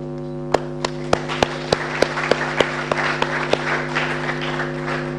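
An audience at the launch of the 2018 National Science and Maths Quiz applauds, with sharp separate claps at first that thicken into scattered applause over a steady hum.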